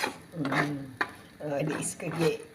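Eggs are scrambled in a pan with a spatula, soft scraping strokes and a light sizzle with a couple of sharper taps against the pan, close and alone.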